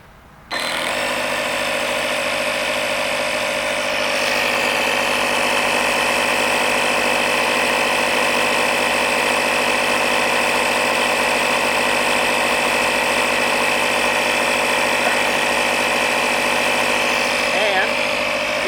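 A tire inflator pump runs continuously while filling a tire toward a set 35 psi, a steady loud mechanical buzz with a vibrating drone that starts abruptly and holds evenly throughout.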